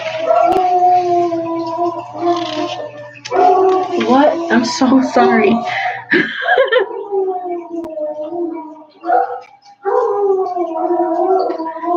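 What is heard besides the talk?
dogs barking and howling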